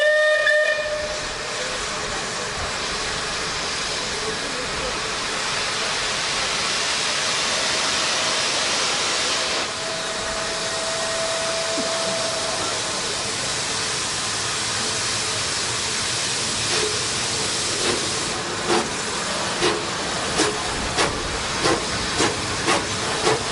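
Steam locomotive Tor Valley departs for Kidderminster at a spring steam gala, a long loud whistle blast over continuous hissing steam, followed by a rising run of sharp exhaust chuffs as it pulls away.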